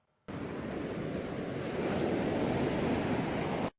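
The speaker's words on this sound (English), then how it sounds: "relaxing sound of ocean waves in the evening" Ocean waves in the evening, played as a relaxing sleep recording, make a steady, full surf roar that fades in, holds evenly for several seconds and cuts off, with no voices.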